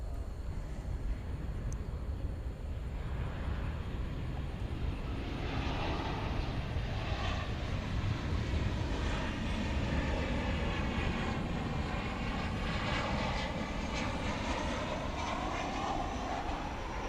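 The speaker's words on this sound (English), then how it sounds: "This will be a 737-900 from Seattle on Runway" Boeing 737-900 from Seattle on short final to DFW airport after midnight, a steady broadband jet roar that swells slowly and holds loud throughout with no talk.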